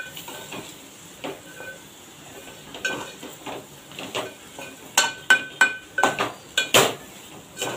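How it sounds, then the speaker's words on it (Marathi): Chopped ivy gourd (tondli) being sautéed in a pan for tondli rice, heard as a run of sharp metal clinks and scraping spatula strokes that grow louder and quicker toward the end over a faint, steady sizzle. "तोंडली कापून ठेवली होती ती घालणार आहोत"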